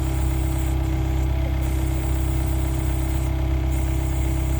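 A tractor engine idles steadily at a job site where huge post-and-beam timbers are being set, a constant low mechanical rumble and hum with no breaks, close and even in volume.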